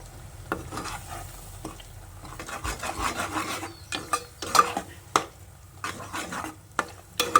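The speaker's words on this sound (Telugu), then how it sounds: "కొద్దిగా పచ్చి వాసన పోయేదాకా కలుపుకోవాలి." Onion and dry fruit paste is stirred in a pan, close and clear: repeated scraping, rubbing strokes of a spoon over a light sizzle, coming in an uneven rhythm of separate passes.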